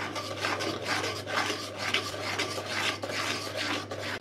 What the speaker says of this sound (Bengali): মশলাটা ভালোভাবে কষাবো।